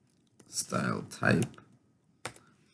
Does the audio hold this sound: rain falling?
no